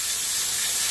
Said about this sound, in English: So I'm using just compressed air. I'm gonna blow it through and then shoot out whatever oil, junk, whatever.